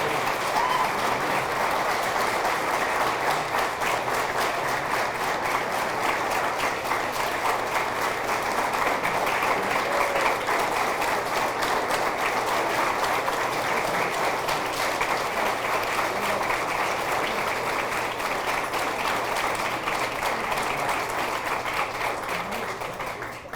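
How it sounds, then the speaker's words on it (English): Sustained, steady audience applause filling a high school athletic hall of fame ceremony, dense clapping at an even level throughout that tapers slightly at the very end. "Let's give all of our athletes and contributors a big round of applause."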